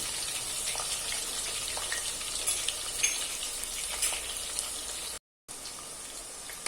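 Chopped garlic sizzling in hot oil for a tempering, a steady dense crackling hiss that runs on evenly, drops out for a split second near the end, then resumes.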